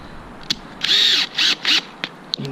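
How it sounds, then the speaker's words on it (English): A power drill bores holes during a DirecTV satellite dish installation, giving three short whining bursts nearby, with scattered clicks and taps in between and no talking. "Now I know they want you to pre-drill these holes."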